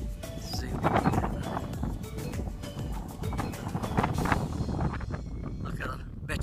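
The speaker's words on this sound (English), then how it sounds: "Bet you're enjoying this wind" Strong seaside wind buffets the microphone on a blustery walk at Burnham-on-Sea, a steady roaring rush with gusty swells throughout and no clear speech.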